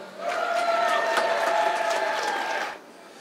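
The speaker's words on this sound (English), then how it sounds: "A big round of applause for Aaron." Audience applause at an outdoor holiday tree lighting ceremony, honoring a third-place student essay winner; a steady wash of clapping runs for about two and a half seconds, with some high tonal noise mixed in, then cuts off abruptly.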